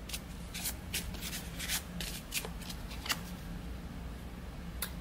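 A deck of Pagan-themed playing cards being shuffled, giving repeated soft riffling bursts close by over a low steady background hum, with no talking.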